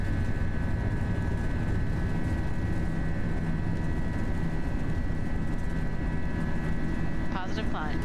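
An FSLabs A320 in the Prepar3D flight simulator rolls for takeoff and climbs, a loud steady low engine roar with a faint high tone on top, and a brief chirp near the end.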